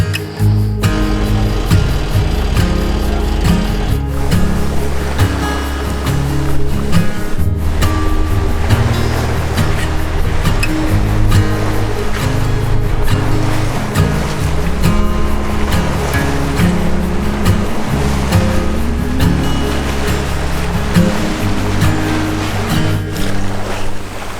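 A sailboat running under spinnaker through open ocean swells toward Lady Musgrave Island, a loud continuous rush of water and wind along the hull with low rumbling surges.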